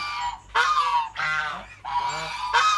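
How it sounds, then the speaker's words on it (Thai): Ducklings in a farm pen with Barbary ducks, giving loud honking, nasal calls in three long drawn-out bursts separated by brief gaps, close by with no talking. "อันนี้ลูกเป็ด"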